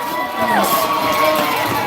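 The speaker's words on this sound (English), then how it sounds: "This crowd is going crazy!" A high school hockey crowd at a playoff game roars and cheers just after a goal, a dense wash of voices with shouts rising above it.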